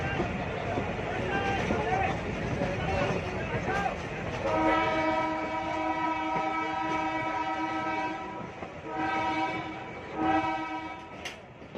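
A Karachi Circular Railway train runs along the track, its rumble and rattle steady and close, with a long, loud multi-tone horn sounding midway and again near the end, while people talk nearby.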